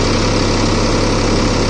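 A Sonalika 745 III tractor engine runs in low gear, a loud, steady diesel rumble with a dense, unbroken throb and no voices over it.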